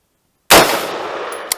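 A single loud AR-15 rifle shot fires after a moment of silence, with a sharp crack and a ringing decay.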